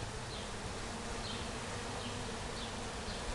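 Bees buzz steadily around a garden hive on a summer day, a dense continuous hum as many fly in and out, close and fairly quiet with no talk.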